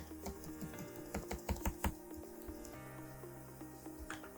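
Keys clatter on a computer keyboard in an irregular run of close, crisp taps, a denser burst in the middle, then a pause and a couple of final strokes, with faint background hum and no speech.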